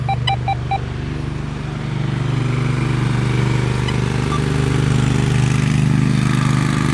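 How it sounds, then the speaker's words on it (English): An ATV four-wheeler engine drones steadily throughout, growing slightly louder as it passes nearby, with a few faint electronic beeps from a metal detector near the start. "Let that four-wheeler get out of here."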